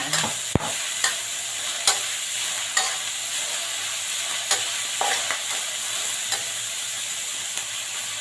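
Spinach stir-fries with minced pork and red chili in a hot pan, a loud continuous sizzle punctuated by regular spatula scrapes and knocks roughly every second, with one sharp clank early on.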